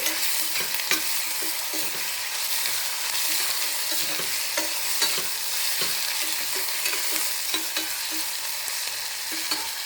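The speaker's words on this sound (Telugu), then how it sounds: "అల్లం వెల్లుల్లి పేస్ట్ అది కూడా కొంచెం వేగాలి" Ginger garlic paste fries in a pan with a loud, continuous sizzle, and a spoon stirs through it now and then. No one speaks.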